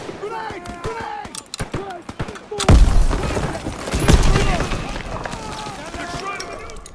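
Heavy grenade blast in the WWII shooter game Call of Duty WWII, a deep booming burst followed by rumbling aftershock and further thuds, with shouted voices before it.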